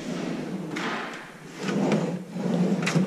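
Kitchen drawer in a spacious five-bedroom apartment sliding open and shut, a few close wooden scrapes and soft thuds spread over three seconds with no talk.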